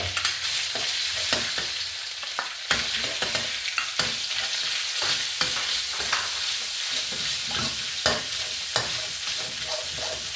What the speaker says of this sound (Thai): เจียวหอมให้หอม เสร็จแล้วเราก็ใส่หมูบดลง